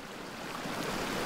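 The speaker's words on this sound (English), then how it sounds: "We're following this stream up the canyon." Creek water rushing steadily through a canyon, a dense continuous wash that is loud and close, with no voices.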